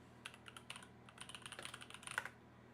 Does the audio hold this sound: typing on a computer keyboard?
yes